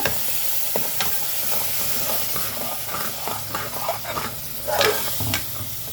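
Turmeric and tomato puree frying in a pan make a continuous close sizzle, with the spoon scraping and tapping the pan at irregular intervals and a brief louder crackle near the end.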